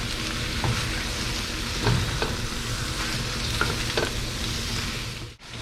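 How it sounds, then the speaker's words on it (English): Eggs being stirred into stir-fried noodles in a hot pan for chicken pad see ew, with a continuous loud sizzle and intermittent scraping strokes close by. "So you're just gonna mix the eggs with it."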